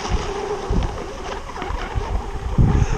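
Wind buffeting a microphone aboard a moving boat in roughly 20 mph wind, a continuous rushing roar with uneven gusty swells and low thumps, no voices.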